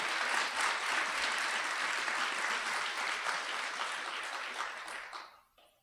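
Audience applause at an awards ceremony honoring an EMS chief, full and continuous clapping from a crowd that holds steady, then thins and fades out near the end.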